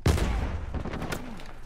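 Gunfire in the multiplayer mode of the video game Uncharted 4, a quick burst of sharp shots that starts loud and then fades, heard alone.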